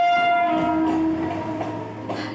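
A Mumbai local train passes close by, with a sustained horn tone over a rumbling, rattling rail roar that fades slightly toward the end, and no voices.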